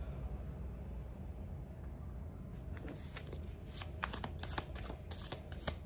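A tarot deck is shuffled and cut by hand, a run of crisp riffling card flicks over steady low background hum, close and moderately loud.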